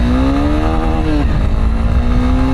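A Honda NX200 motorcycle pulls away and accelerates hard, its engine note rising steadily with a brief dip around a gear change before climbing again, loud and close throughout.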